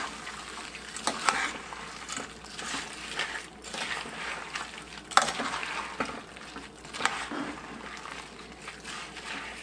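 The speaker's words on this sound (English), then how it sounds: "I want to stir them until I can't see any more just naked looking peanuts" Peanuts being stirred with a wooden spoon to coat them, a continuous rough scraping and rustling with rhythmic swells as the spoon sweeps through the bowl, close and moderately loud.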